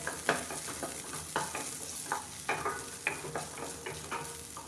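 Shallots frying in hot oil for sambar crackle and sizzle steadily, with repeated stirring scrapes breaking through in a close, fairly quiet pan.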